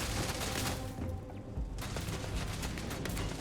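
Turrets open fire in the space game Starfield, a dense, continuous barrage of rapid gunshots and mechanical clatter that stays loud for the whole stretch, briefly easing midway before resuming.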